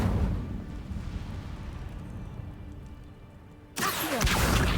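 A fire spell blast from Incendio in Hogwarts Legacy bursts in abruptly near the end, loud and broadband, cutting off a quieter rumbling stretch.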